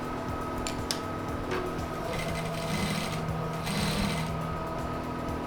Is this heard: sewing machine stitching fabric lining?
yes